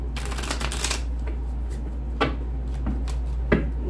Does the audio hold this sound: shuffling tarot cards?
yes